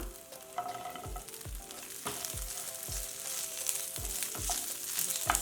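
Drumstick pieces and ginger garlic paste sizzle and fry in a pan, with steady crackling punctuated by regular stirring knocks and scrapes throughout, close and clear with no talking.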